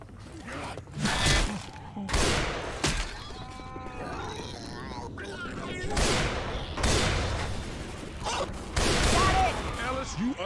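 Gunfire in a zombie shooter video game: repeated loud bursts and sharp volleys in uneven clusters, mixed with clattering impacts and game effects throughout.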